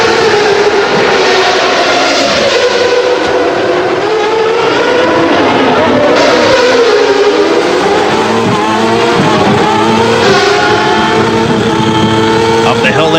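Formula 1 car engines at the 1994 Monaco Grand Prix in Monte-Carlo, high-pitched engine notes rising and falling as cars climb through the gears, loud and continuous, with a commentator's voice underneath.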